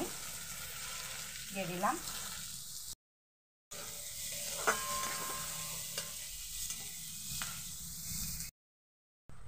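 Chopped onions frying in hot mustard oil in a home kitchen, a steady sizzle with brief stirring scrapes and a short spoken phrase near the start.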